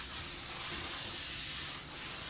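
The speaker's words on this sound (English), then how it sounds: "so now I'm going to start spraying on the clear coat" An aerosol spray can of clear coat hisses continuously and steadily at close range onto a piano's finish, a broad, even spray with only slight dips, and no talking over it.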